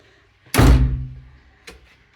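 A bathroom door in a large country property swings and closes with a loud, close thunk that rings briefly, followed about a second later by a softer knock as it settles.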